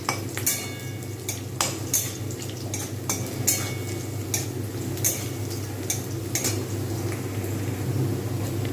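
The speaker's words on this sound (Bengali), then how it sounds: "আর এটা এখন লাল করে ভাজতে থাকবো" Onions fry in ghee in a pot for Hyderabadi dum biryani under a steady low sizzle, while a metal spatula stirs and scrapes, giving irregular sharp clinks close by.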